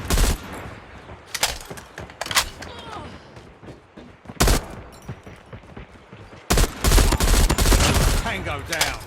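M16 assault rifle fire in the mobile game Call of Duty Mobile, with loud bursts of rapid shots coming in clusters, brief pauses between volleys, and a sustained barrage near the end, with game voice callouts mixed in.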